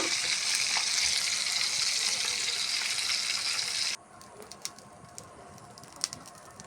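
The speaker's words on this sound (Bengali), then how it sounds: "মাছটা ভাজা হয়ে গেছে" Hilsa fish fries in hot oil with a loud, steady hissing sizzle for about four seconds, then it drops to a quieter crackle with occasional sharp pops.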